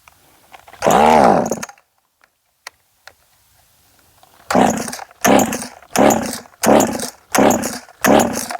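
A ported Craftsman Poulan chainsaw with a 16-inch bar and Husqvarna C83 chain starts with one loud burst, falls quiet apart from a few clicks, then revs in six sharp rhythmic bursts close to the listener.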